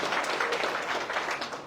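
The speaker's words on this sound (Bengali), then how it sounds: "একটা হাততালি।" A class applauding students who earned top exam results, dense steady clapping from many hands filling the room, moderately loud and even from start to finish.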